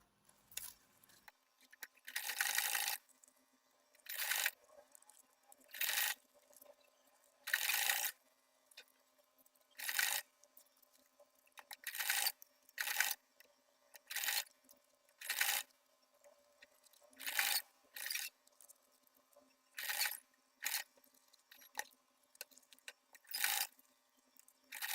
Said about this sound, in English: So watch as I sew it.